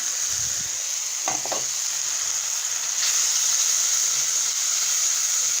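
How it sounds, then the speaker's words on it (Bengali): Whole spices, salt and ground spice powders fry in hot oil in a pan, giving a steady bright sizzle while a spoon scrapes and stirs through them with a few soft knocks. "এভাবে নেড়ে নেড়ে মশলাগুলো আমি কষিয়ে নেব যতক্ষণ পর্যন্ত মশলার উপরে তেল উঠে না আসে।"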